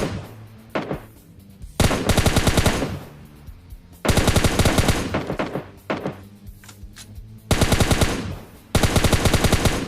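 Automatic weapon fire from the PUBG Lite video game rattles in several loud sustained bursts, each lasting about a second or two, separated by short quieter gaps with faint background game sounds.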